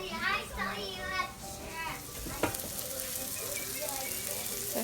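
Slices of acorn squash sizzle and fry in a pan on medium heat, a steady hiss running throughout while children and an adult talk excitedly over it nearby.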